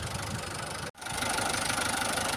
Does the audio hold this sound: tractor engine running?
yes